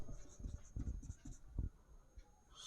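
Pen or pencil writing on paper: faint, close scratching strokes in short irregular bursts, soft and quiet with no talk.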